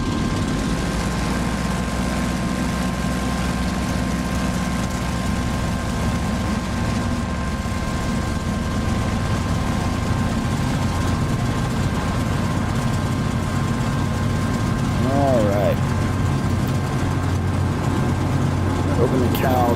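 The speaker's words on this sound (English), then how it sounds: "Engine is primed. Mags are hot. Starter and primer. Throttle open a 1/2 inch." A WWII F4U Corsair fighter's radial engine turns over and settles into a steady, loud, low rumbling idle during a ground run-up, with someone talking intermittently over the engine noise.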